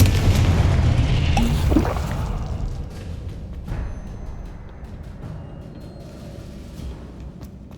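A Confringo blasting spell going off in Hogwarts Legacy: a loud, heavy boom with a rushing whoosh that swells, then slowly dies away into a low rumble, with a few faint thuds after.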